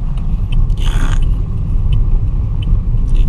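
Tricycle engine rumbling steadily up close as a student driver gives it gas on a bypass road, with a brief louder mechanical surge partway through.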